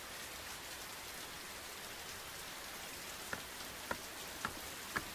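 Steady rain falling in an anime scene, a dense even hiss throughout with a few sharper drop-like ticks near the end, no voices.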